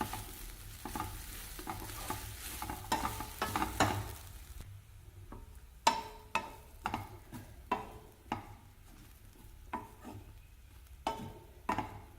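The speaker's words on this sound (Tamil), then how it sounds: "இன்னும் கொஞ்சம் நெய் சேர்த்து தேங்காயை வறுத்துக்கலாங்க" Grated coconut roasts in ghee for a coconut laddu as a spoon stirs it, with a soft steady sizzle and repeated close scraping strokes in an uneven rhythm. No one speaks.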